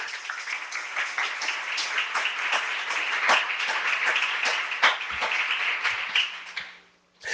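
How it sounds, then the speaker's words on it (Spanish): A church congregation applauding in praise during a Spanish-language service, a steady dense stretch of clapping with sharper individual claps standing out, fading out near the end. "Denles aplauso al Señor."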